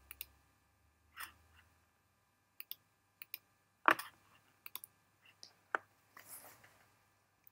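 Sparse computer mouse clicks while saving a model in Revit 2017 on a desktop setup, a handful of short, close, quiet taps scattered irregularly with silence between them.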